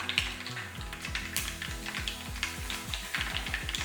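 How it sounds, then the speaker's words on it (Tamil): Peppercorns and other whole spices frying in oil: a faint crackling sizzle sits under a loud, rhythmic mechanical whirring with repeated ratcheting sweeps, close and continuous. "பத்து மிளகு இதில் சேர்த்துடலாம் எல்லாமே நல்லா பொரியட்டும்"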